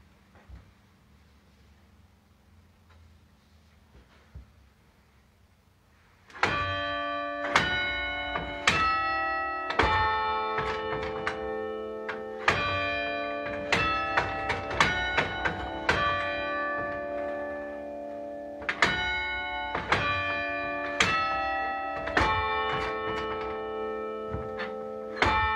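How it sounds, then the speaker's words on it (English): Tower bells play the Westminster chime to strike the hour like Big Ben: loud, ringing peals follow one another in a steady melodic sequence, each strike overlapping the resonant decay of the last, after a quiet start. "Big Ben chiming the hour"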